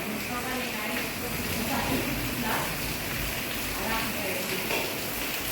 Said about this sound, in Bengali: এখন বাইরে এখনও বৃষ্টি চলছে